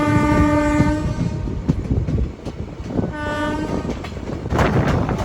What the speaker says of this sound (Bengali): ট্রেন ছেড়ে দিল হচ্ছে কাশিমবাজার স্টেশন